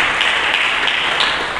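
Sustained crowd applause fills a church congregation, a dense, steady wash of many hands clapping at once, loud and continuous without pause.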